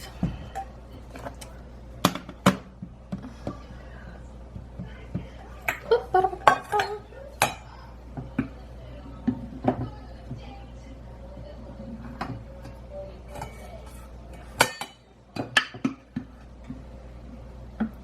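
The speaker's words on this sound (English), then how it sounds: "So let me grab a bowl and a sieve." Bowl and sieve being grabbed in a home kitchen during holiday baking, heard as scattered clinks and clatters of dishes and metal with light knocks, close and fairly quiet, with brief pauses between handling sounds.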